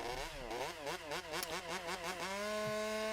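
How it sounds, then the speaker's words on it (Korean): A Boston Dynamics robot's engine with a motorcycle-like tone, a buzzing, wavering whine that rises and falls in quick pulses before settling into a steady drone, close and continuous. "지금까지도 오토바이 엔진 소리가 들리죠."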